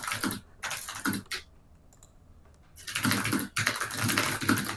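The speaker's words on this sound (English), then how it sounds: "I'm just typing to chat." Rapid clatter of typing on a computer keyboard during an ICPC programming practice session, in dense bursts with a short quiet pause in the middle, close and fairly loud.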